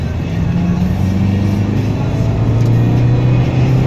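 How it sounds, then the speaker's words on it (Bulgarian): A Seat Leon 1.9 TDI 150hp car accelerating, its diesel engine droning loud and close with a steady, rising tone. "Задавам му газ."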